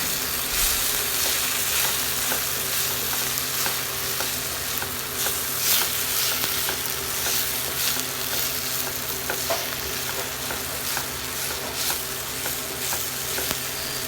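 Kashmiri chilli, coriander, garam masala and chicken masala powders fry in hot oil, sending out a dense, continuous sizzle with scattered crackles and scraping stirs, loud and close throughout.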